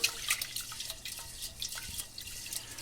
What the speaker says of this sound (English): take a pan, put your rice in it, run some cool tap water